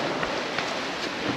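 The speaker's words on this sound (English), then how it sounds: "it's raining!" Rain falls on a sailboat off St Lucia, a dense, even hiss of drops pattering steadily on deck without a break.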